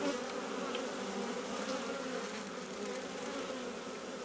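Honeybees buzz at an open beehive holding worker brood and drones, a dense continuous hum that stays steady and fairly faint throughout, with no voices.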